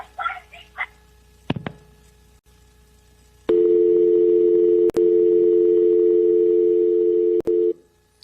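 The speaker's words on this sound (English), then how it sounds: "The remaining time on that audio will just be a dial tone" A steady telephone dial tone hums loudly and continuously for several seconds, preceded by brief voices and clicks, then cuts off near the end.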